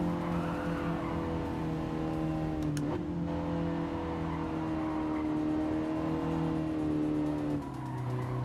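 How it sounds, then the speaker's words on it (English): Tires squeal as they lose grip on a car in Gran Turismo 7, a sustained screech over a steady droning engine whose pitch holds, then drops near the end. "you hear the tires breaking free, you hear the car moving around"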